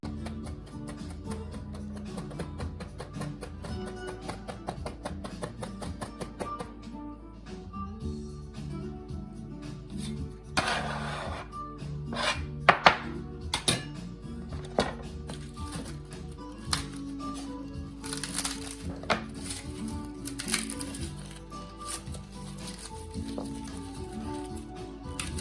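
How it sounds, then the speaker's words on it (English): A knife chops a stalk of celery finely on a board, producing a long run of quick, irregular taps and clicks that thicken into denser bursts midway, close and moderately loud, without talk. "I'm only gonna use about a half of this stalk of celery. That's all it's gonna need. But I'm gonna chop it nice and fine."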